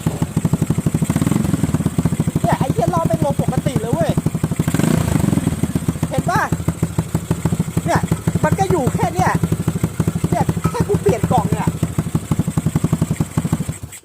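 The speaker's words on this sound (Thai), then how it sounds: "ทีเดียวติดนะแล้วเดี๋ยวดูตอนเบิ้ลนะ" A motorcycle with its stock ECU refitted, suffering a hanging-idle fault, runs steadily and loudly close by with an uneven, chugging idle and a few blips of the throttle, while someone talks over it.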